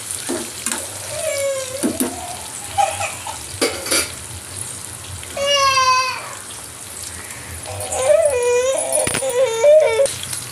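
Onions frying in a pan for okra curry: a steady sizzle under stirring, with sharp clatters of a utensil against the pan and intermittent faint whistling or squeaky tones.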